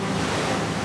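Open-sea swell and waves rush in a continuous broadband wash mixed with wind noise, loud and steady for under a second, with no distinct wave break, during a sea voyage hauling a house by boat.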